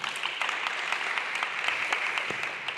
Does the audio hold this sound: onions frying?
no